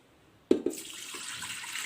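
Water is poured into a pressure cooker holding mutton, spices and soaked lentils, starting with two sharp splashes and then running as a steady close pour.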